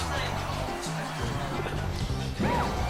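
In Super Smash Bros. Melee, Peach lands repeated down smash hits on Jigglypuff, sharp crashing thwacks popping over game noise while commentators talk throughout.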